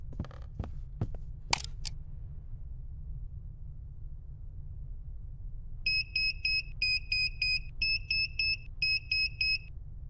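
An alarm sounds in the video game UFOPHILIA: a short burst of clicks, then a repeated two-tone electronic beeping pattern in four or five evenly spaced pulses over a low steady hum, with no talking.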